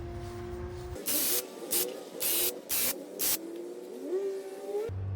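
A Graco Ultra cordless airless handheld paint sprayer fires paint in five short bursts of loud hiss with an irregular rhythm, while its motor whines steadily underneath and rises in pitch near the end.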